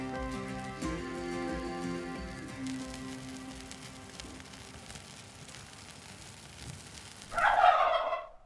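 A loud, rough wild turkey gobble bursts out near the end, after a stretch of quieter, steady tonal background sound.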